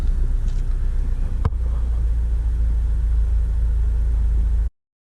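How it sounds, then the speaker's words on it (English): A Honda car engine idles steadily with a low, even rumble close by while the electric power steering wheel is turned, a single sharp click midway, then the sound cuts off abruptly. "So we're gonna start the engine."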